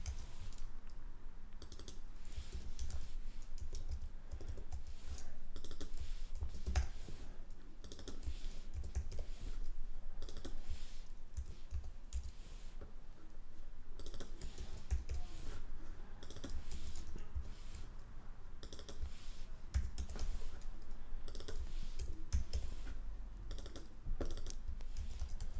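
Steady close-up computer keyboard typing, with rapid, uneven keystrokes continuing throughout over a faint low hum, while names are entered in Figma.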